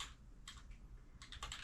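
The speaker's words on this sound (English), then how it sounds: "Now I can type." Soft clicks of a computer keyboard come in short bursts of typing, close and quiet, with brief pauses between keystrokes.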